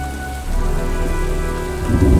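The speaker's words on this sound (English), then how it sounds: "looks like a storm's coming" Heavy rain pours steadily in the video game Heavy Rain, with deep rolling thunder building beneath it toward the end, loud and close with no voices.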